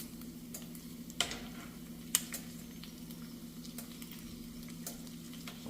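Bacon frying in a skillet, a steady faint sizzle with a low hum underneath and a couple of sharp clicks or taps from moving the strips around.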